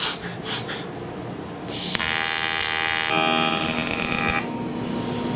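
TIG welding of silicone bronze with a flexible tungsten electrode: a steady, loud electric buzzing hum begins about two seconds in and holds nearly to the end, after a few soft breathy noises.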